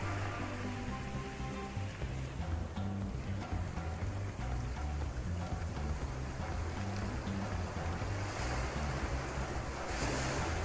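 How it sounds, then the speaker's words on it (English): Ocean waves roll in a steady, continuous wash of surf with some wind over the microphone, no speech present, holding an even, moderately loud level throughout. "The gentle roll of the hypnotic rhythm of the waves washes you with a sense of deep relaxation"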